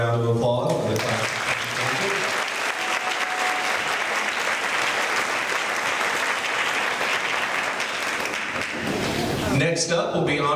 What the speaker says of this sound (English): Another round of applause for the class.